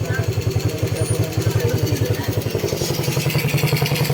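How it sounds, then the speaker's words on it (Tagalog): Suzuki Shogun 125 motorcycle fitted with a stock-style Tulisan carburetor, its single-cylinder engine thumping in a fast, rhythmic putter at close range and picking up briefly toward the end. "Nabibirit na po ni Bossing to yung motor niya."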